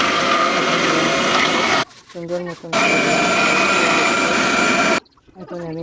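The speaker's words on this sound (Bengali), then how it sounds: "প্রথমে আমি তরমুজগুলো সম্পূর্ণ দিয়ে ব্লেন্ডারের বাটিতে করে ব্লেন্ড করতে দিলাম" An electric blender whirs loudly as whole watermelon pieces are blended in its jar for ice cream, running in two long steady bursts broken by short pauses where someone speaks briefly.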